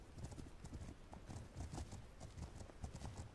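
Hooves beat out a rapid, rhythmic galloping clip-clop as a horse sprints across the ground in a video game, steady and close throughout, fairly quiet, with no talk over it.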